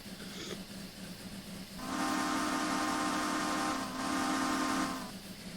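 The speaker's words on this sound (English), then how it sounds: "I would say I'm pretty trigger happy with the whistle" Steam locomotive whistle in a train simulator game, sounding in two loud sustained blasts of about two seconds each with a brief dip between, over a steady hissing rumble of the engine and an empty stock train.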